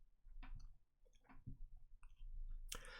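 A computer mouse clicks on a website button with several faint, sharp clicks at irregular spacing, close up in a quiet room.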